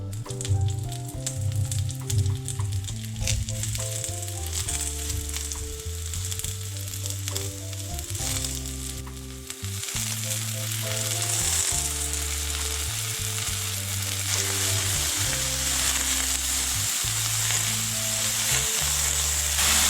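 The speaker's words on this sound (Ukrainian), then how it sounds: "Тепер відправляю гриби смажитися." Mushrooms sizzle and crackle steadily in a hot pan, a continuous close frying sound with faint clinks, no talking.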